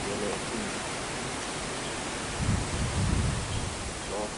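Strong wind while fishing at a tilapia spot roars as a dense, constant rush buffeting the microphone, loud and close throughout, with faint voices underneath.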